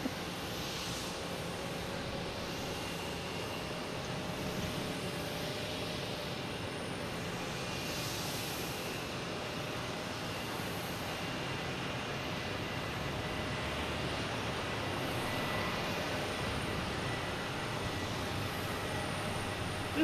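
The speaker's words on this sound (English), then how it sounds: "Runway 9, clear for takeoff, American Airlines heading to Chicago." An American Airlines airliner takes off from Runway 9 at Boston Logan, bound for Chicago: a steady, broad jet roar holds at moderate distance for the full twenty seconds, with no voices.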